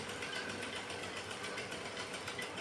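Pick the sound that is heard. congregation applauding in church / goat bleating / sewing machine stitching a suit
sewing machine stitching a suit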